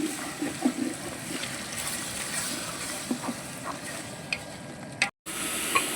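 Homemade biryani masala with pepper powder, garam masala and chilli powder sizzling in a pan for fish biryani after a glass of water goes in: a steady close frying hiss, with a few faint stirring knocks and a brief cutout near the end.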